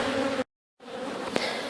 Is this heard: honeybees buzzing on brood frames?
yes